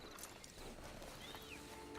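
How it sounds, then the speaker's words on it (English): A horse in the Red Dead Redemption 2 video game clip-clops faintly over a quiet ambient game background, with a brief whinny-like tone near the end. "Get on the horse there."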